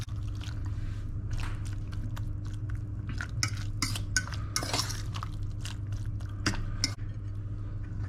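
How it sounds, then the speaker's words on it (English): Crocodile burger mixture being mixed by hand in a bowl, a run of close wet squishing and clinking against the bowl over a steady low hum, with no talk. "mix that all up"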